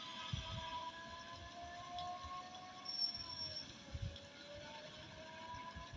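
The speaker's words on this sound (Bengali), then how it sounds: "পাশে আমার ট্রেন যাচ্ছে এখান দিয়ে।" A train runs alongside a road, its steady rumble overlaid by a thin, drawn-out wheel squeal that rises and falls, heard at moderate distance without voices.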